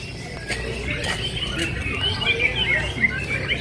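At a murai bird-singing contest, many songbirds chirp and trill together over a busy background of crowd noise and faint chatter.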